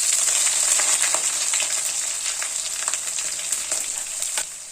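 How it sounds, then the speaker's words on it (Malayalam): Ginger, garlic and shallots frying in hot oil with curry leaves and fenugreek for a Kerala sardine curry, a loud continuous hiss and crackle with faint stirring clicks, close up and without speech. "ഇനി ഇഞ്ചിയും വെളുത്തുള്ളിയും, ചെറിയ ഉള്ളി ഇടാം."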